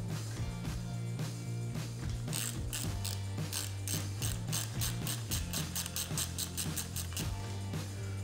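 Ratchet wrench clicks rapidly in repeated bursts of turning strokes, close and crisp, during assembly of a 2002 Subaru EJ20 engine's valve covers, over a steady low hum.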